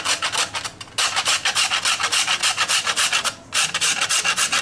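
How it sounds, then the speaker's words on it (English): Nutmeg is grated into a sauce with a quick, steady run of close, dry rasping strokes, paused briefly twice, with no voices. "I'll grate a little bit of nutmeg into the sauce at this stage."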